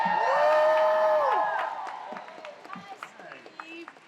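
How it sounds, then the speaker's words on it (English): Loud cheering with whoops and screams swells from an audience at a Comic Con panel, then eases into scattered clapping and fading shouts. "How about another giant round of applause for these two incredible people?"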